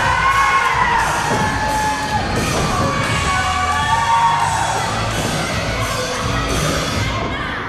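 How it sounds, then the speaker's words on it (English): A packed indoor crowd at a wrestling event in Buckhead roars with cheers, whoops and yells in a loud, continuous ovation that carries on steadily throughout, with shouting voices rising above the general din. "Nice ovation from this crowd packed in here tonight in Buckhead."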